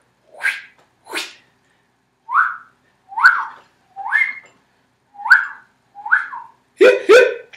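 A person gives a series of short whistled calls and animal-like vocal imitations, about eight separate bursts in a steady rhythm, close and fairly loud with silence between them, used to draw wild animals near in a wilderness setting.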